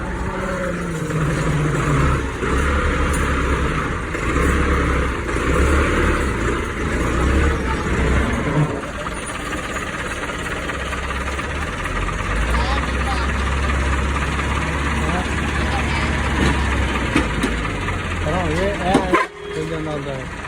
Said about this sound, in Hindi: ट्रैक्टर आने लगा बाहर।